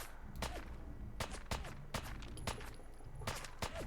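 Gunfire in the video game Fallout 4, a series of sharp shots at irregular intervals, each one short and punchy over a low in-game background. The shots sound moderately distant.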